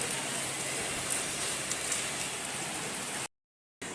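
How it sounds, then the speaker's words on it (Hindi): Water runs steadily into a sink in a room, making a continuous close hiss and patter that stops abruptly near the end, followed by brief silence and then a return of the sound. "सिंक में आ रहा है पानी।"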